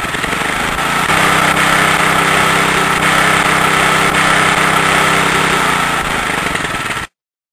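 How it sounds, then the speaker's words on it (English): A Suffolk Punch petrol lawn mower engine roars loudly and steadily at close range, then cuts off abruptly near the end. "Pass me the petrol mower. Suffolk punch."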